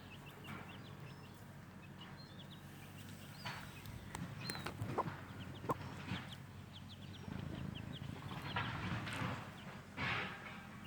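Silkie hens and their chicks in a pen, with faint scattered clucking and high peeping chirps over a low steady background, fairly quiet and close.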